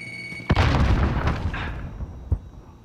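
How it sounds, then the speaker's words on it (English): A frag grenade goes off in a video game with one heavy, booming blast that rumbles and fades over a couple of seconds, followed by a smaller thump shortly after. "Throwing frag."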